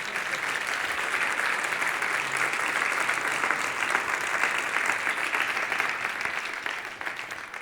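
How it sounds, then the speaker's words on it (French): Audience applause at an awards celebration of civic engagement, a steady, full crowd of clapping lasting several seconds and tapering slightly at the end. "ça s'applaudit encore une fois"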